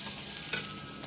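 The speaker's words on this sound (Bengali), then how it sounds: "এদিকে মানে ওল আর আলুটাকে ভাজছি।" Elephant foot yam and potato pieces fry in oil with a steady, close sizzle, broken once midway by a brief stirring clatter; no one speaks.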